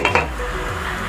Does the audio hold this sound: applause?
no